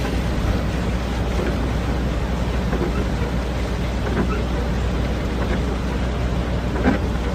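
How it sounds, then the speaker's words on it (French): A storm pours steady heavy rain, a dense continuous roar that fills the whole stretch with a low rumbling undertone like thunder, and no voices come through. "C'est pas trop la tempête là?"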